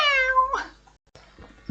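A cat gives one clear, loud, drawn-out meow up close, followed by softer rustling noises.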